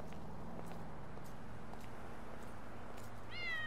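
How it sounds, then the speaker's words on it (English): A cat meows from beneath a parked car, a few faint calls spread out against quiet outdoor background noise, ending in a clearer, drawn-out meow near the end. "I believe there is a cat stuck under the car"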